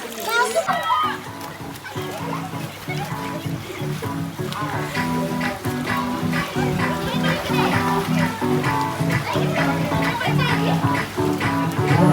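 Children's voices chatter and shout nearby over steady splashing and sloshing of water, lively and continuous throughout, at the Mapro Garden in Mahabaleshwar.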